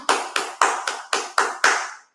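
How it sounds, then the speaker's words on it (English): A single person claps seven times in a slow, even rhythm, each clap crisp and close with a quick decay, applauding the winner of an online pharmacology quiz contest. "So please give a big clap to Mohan."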